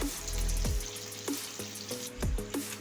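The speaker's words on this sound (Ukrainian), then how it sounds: "Смажимо до золотистої скоринки." Marinated pork sizzles and crackles steadily in a hot pan, frying to a golden crust, punctuated by several sharp clinks and scrapes of a utensil against the pan.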